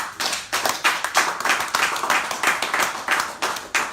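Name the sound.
audience applause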